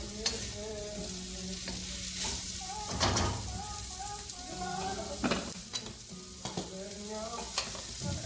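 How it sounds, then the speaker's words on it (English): Chicken and Thai basil fried rice sautéing in a pan, a steady close sizzle with repeated scraping stirs and clinks of the utensil, and a voice speaking now and then over the cooking. "Saute it nice, give it a nice flavor."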